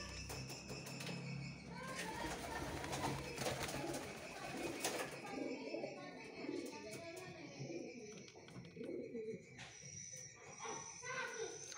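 Pigeon chick and adult pigeons inside a pigeon coop, with soft cooing and chirping calls running continuously under a speaking voice and background household noise.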